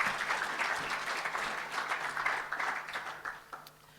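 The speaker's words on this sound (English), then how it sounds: "let's give them a round of applause" A short burst of audience applause in a meeting on learning challenges in the senior phase, steady then fading toward the end.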